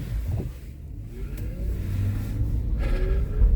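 A car engine rumbles and revs as it pulls out of a driveway on a rainy day, close and steady with a dull wet hiss underneath.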